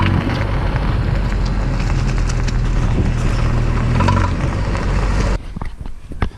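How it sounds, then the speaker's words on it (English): A 1988-1991 fourth-generation Honda Civic with a suspected axle fault pulls out of a hard right turn and accelerates, its engine and road noise a loud, steady drone close by that drops away sharply near the end. "Then we're going to accelerate."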